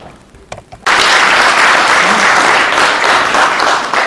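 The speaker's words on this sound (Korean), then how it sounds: "많은 박수 부탁드립니다" Audience at a Korean ginseng promotion event held at the National Assembly bursts into loud, sustained applause after a quiet moment with a few scattered claps, continuing steadily to the end.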